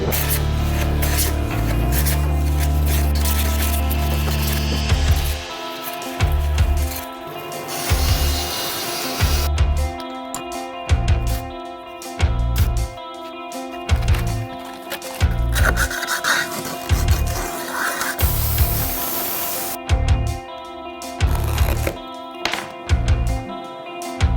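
Repeated rasping strokes of a hand plane shave wood in a steady back-and-forth rhythm, close and fairly loud, with brief pauses between passes.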